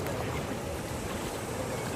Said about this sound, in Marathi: तर एकदम पाण्याचा खळाळता आवाज येतो.